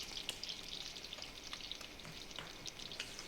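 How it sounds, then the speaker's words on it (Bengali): Eggs frying in a pan give a soft, continuous sizzle with fine crackling pops, fairly quiet and steady with no voices. "দেখো এই যে আমার ডিমটা ভাজা হচ্ছে"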